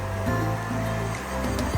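A shallow stream flows beside a tented campsite in Suan Phueng, Ratchaburi, a continuous rushing of water with a low steady hum running underneath it.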